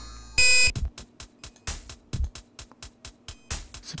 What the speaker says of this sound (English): it's a beep whenever it changes music.